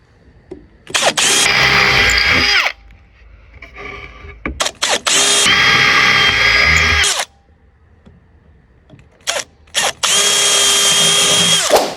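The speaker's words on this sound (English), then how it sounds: "I'm just going to pre-drill each one so that this is my template" A power drill whirs in several loud bursts, each lasting a second or two, pre-drilling holes through a template into deck posts, separated by short pauses with faint handling noise.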